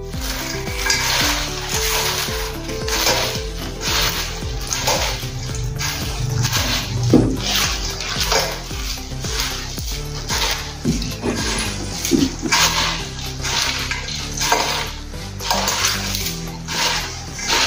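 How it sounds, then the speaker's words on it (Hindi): Raw poha chivda (flattened rice mix) being tossed and mixed with salt by hand, giving a steady crisp, crackly rustle with uneven swells throughout. "तो अभी हम हाथ से अच्छे से मिक्स कर लेंगे।"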